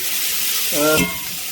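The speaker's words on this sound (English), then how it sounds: "just focus on letting the onions break down." Onions frying and browning in a pan for a mushroom-onion gravy, a steady broad sizzle that swells briefly louder near the middle with a short rising stir or scrape sound before settling back to an even hiss.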